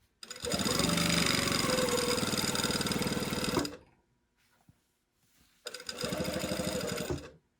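A sewing machine stitches a collar in two sustained runs, the first about three seconds long and the second shorter, with a quiet pause between them and faint sounds in the gap.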